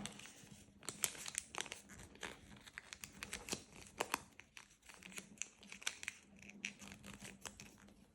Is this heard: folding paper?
yes